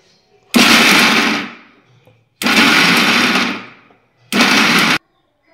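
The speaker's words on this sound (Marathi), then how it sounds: "आता आपल्याला हे मिक्सरमधून जाडसर वाटून घ्यायचं आहे" A kitchen mixer grinder coarsely grinds garlic cloves, coriander and a few chillies in three loud bursts, two long and one short, separated by brief silences.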